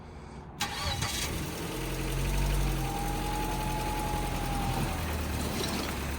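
A 2013 Ford Escape idles steadily after a jump start, its engine a continuous, fairly loud mid-range hum with a brief rising whine, heard close-up at an outdoor tow lot auction.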